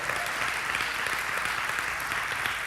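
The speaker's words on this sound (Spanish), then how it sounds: "Give the Lord a strong round of applause for that." A church congregation gives the Lord a round of applause, a dense, steady wash of many hands clapping together that holds at an even level throughout, full and close with no voices standing out.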